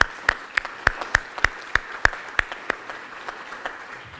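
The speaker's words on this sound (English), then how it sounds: "Can we all just give ourselves a round of applause?" A conference audience gives a brief round of applause: about ten sharp, separate claps at a steady pace, close and distinct, thinning out and stopping after roughly three seconds.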